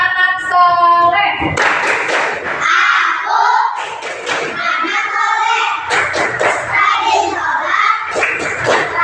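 Children in a classroom perform the tepuk anak soleh clapping game, chanting together and clapping in rhythmic bursts with loud, close hand claps between sung lines.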